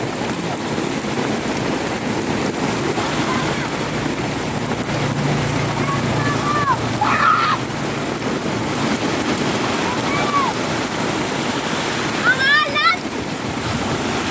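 Sea surf washing steadily onto a beach at Infanta in the rain, a continuous broadband wash with wind buffeting the microphone, while people talk and shout nearby.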